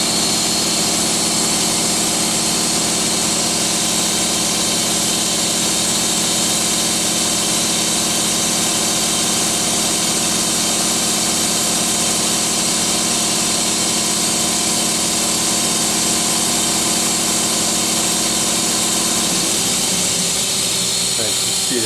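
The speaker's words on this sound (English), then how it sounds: "Let's just leave it till the compressor turns off." An air compressor runs in a machine shop beside a Mazak QTN 100II CNC lathe, a loud, steady droning hum with constant tonal whine that holds unbroken throughout.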